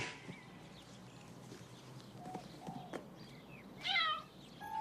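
A quiet, distant setting with a few faint meows, then one clearer, louder meow near the end over soft background noise.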